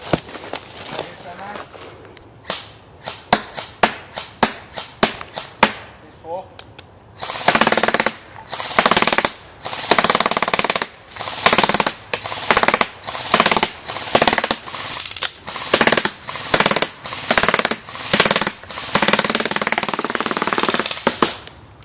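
A Tokyo Marui M4 gas blowback airsoft rifle fires in rapid snapping shots: scattered single and quick shots first, then longer loud bursts of full-auto clatter with brief pauses between strings, with voices talking in between.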